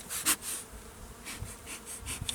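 Honey bees buzz during an inspection of a small hive, a steady near drone with louder passes as individual bees fly close to the microphone.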